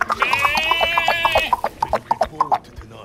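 Game sound from Spider-Man 2, a rhythmic series of clopping hoof-like hits with a sustained bleating, tonal animal call over the first half, then sharper evenly spaced clops continuing alone.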